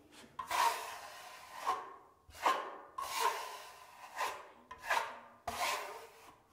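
A traditional steel plastering trowel rasps across a wall as it smooths a filler coat, making about seven quiet, rhythmic scraping strokes, each swelling and fading, with nothing else heard.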